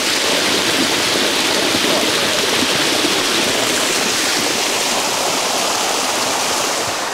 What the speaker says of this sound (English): Check out those vibes, guys. Sticky Waterfall.